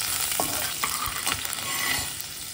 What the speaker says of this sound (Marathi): परतून घेतलं